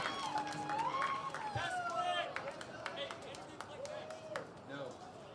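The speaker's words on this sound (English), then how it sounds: "let's get a round of applause for Lily, everybody" A crowd at a college double-header game applauds and cheers for Lily, a steady wash of clapping with raised voices and someone talking over it throughout.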